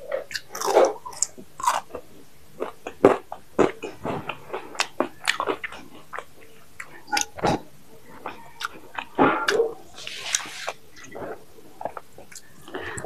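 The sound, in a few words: biting and chewing spicy French fries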